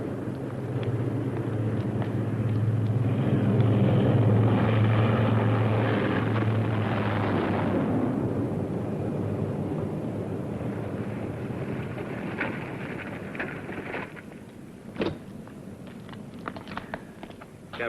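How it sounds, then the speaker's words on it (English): An airplane arriving at an airport, a broad roaring engine drone that swells loudly, then slowly fades as it passes, followed by scattered clicks and knocks nearby. "Your brother's plane is due any second."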